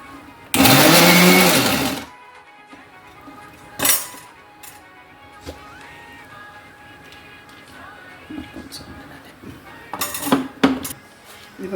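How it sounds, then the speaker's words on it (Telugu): A mixer grinder whirs loudly in one short burst of about a second and a half while grinding chopped raw mango pieces for pickle, followed by scattered clinks of utensils. "ఇలా తరుక్కున్న మామిడికాయ ముక్కలు ఇలా మిక్సీ పట్టుకోవాలి"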